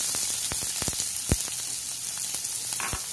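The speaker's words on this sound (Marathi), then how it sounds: "रगड्यासाठी आपण कांदा परतून घेऊ." Chopped onion frying in about a tablespoon of oil over medium heat for ragda, a steady close sizzle with scattered sharp crackles and pops throughout.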